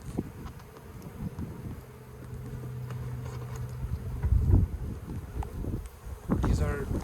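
Bees from a colony nested in a bird house buzz around during a removal outdoors, a faint scattered drone under wind noise and handling bumps, with a low hum passing through midway.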